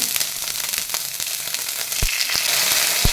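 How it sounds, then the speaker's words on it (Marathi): Steady, loud sizzling of shredded cabbage frying in a hot wok, with sharp crackles and scraping clicks scattered throughout. "आता याच तेलाच्या कढईमध्ये असा लांब कडक उभा चिरून घेतलेला मुठभर कोबी घालायचा आहे"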